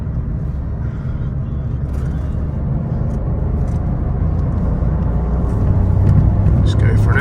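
A Ford Fiesta Zetec S engine hums and builds steadily under acceleration, heard from inside the car as a continuous low drone with road noise that grows slightly louder toward the end.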